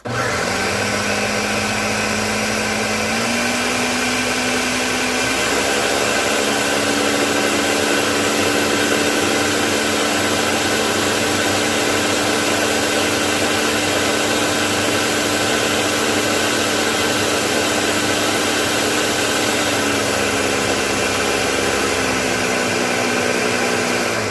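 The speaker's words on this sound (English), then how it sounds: "I'm going to puree this." A blender purees pizza sauce in a steady, loud whir that holds for about twenty seconds, its pitch rising slightly as the motor settles under load, then dipping near the end. No voices.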